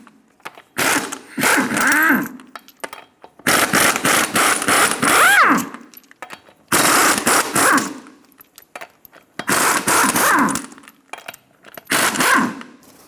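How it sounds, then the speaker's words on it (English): A ratchet or impact tool with a 21mm socket spins off the six wheel lug nuts on a 2000-2006 Toyota Tundra, in five separate loud whirring bursts with short pauses between, close by. "Using a 21mm socket, remove the 6 lug nuts."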